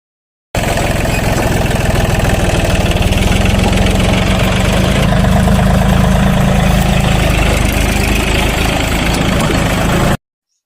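A tractor engine runs steadily for ploughing a farm field, a loud, continuous low diesel chug with vibration that starts abruptly and holds for about ten seconds before cutting off.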